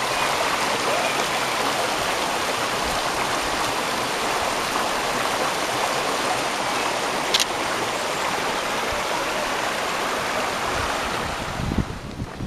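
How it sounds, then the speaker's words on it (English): A small creek flows in a steady, broad rush that is close and continuous, with some wind noise across the microphone and a brief click partway through. "I'm standing here in a little creek."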